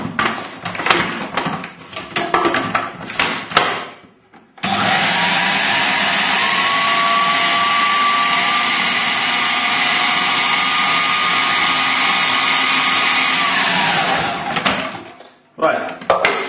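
Food processor blending a coriander and lemon crust mixture, starting with short clattering bursts, then running as a steady loud whirring drone for about ten seconds before cutting out and clattering again.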